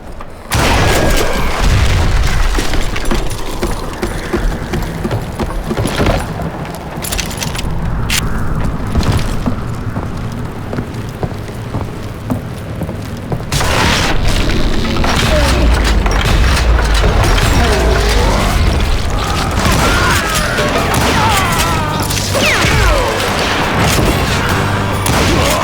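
Dynamite charges going off in the Western game Call of Juarez: Gunslinger, loud booming blasts and crashing debris in a dense, continuous barrage with heavy rumbling and no talk.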